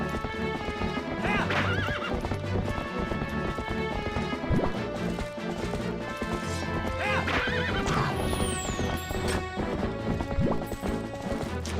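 Horses in the video game Twilight Princess neigh and whinny repeatedly over rhythmic clip-clopping hooves, layered with game music and occasional crashing hits.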